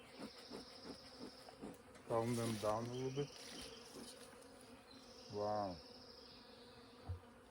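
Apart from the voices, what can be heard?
agitated Russian honey bees buzzing at an opened log hive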